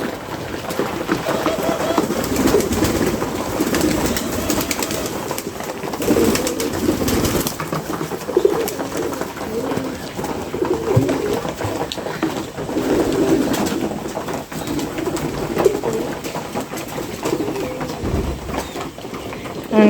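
Pigeons and doves coo steadily while being fed, a continuous murmur of low rolling calls from several birds close by, with occasional rustles and faint background voices mixed in.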